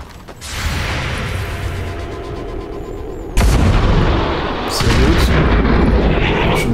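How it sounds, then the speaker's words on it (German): Loud bursts of gunfire and booming shots from the video game XCOM 2, with a sharp heavy blast midway and continued firing after, mechanical clatter underneath. "Die ersten beiden Overwatch-Schüsse töten die."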